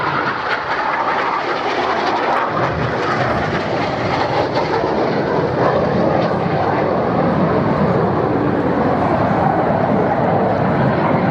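Red Arrows display jets at a Scottish airshow in the FlightGear flight simulator, a lone jet passing with a loud, sustained broadband engine roar that swells slightly and stays steady throughout.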